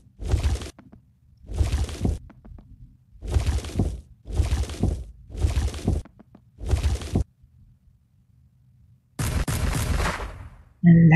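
Fireworks going off in the video game Diggy's Adventure: six short, loud bursts in an irregular rhythm, then a pause and a longer, noisier blast near the end, with no talk over them.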